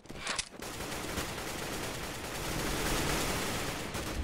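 Rapid automatic gunfire from an enemy player in CS:GO, a dense sustained rattle of shots after a short opening burst, loud and close, with no talking.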